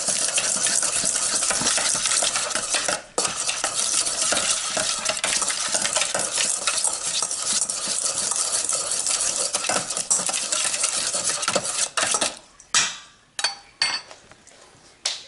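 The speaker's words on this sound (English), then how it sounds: "Give it a good stir." Vegetarian chick'n mixture with Bragg's being stirred in a pot, a steady dense scraping and clattering that runs continuously, breaks briefly, then ends in a few separate knocks of the spoon against the pot.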